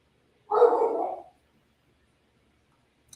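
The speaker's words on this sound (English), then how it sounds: "I hear my dog barking" A single dog bark, sharp and fairly close, followed by silence.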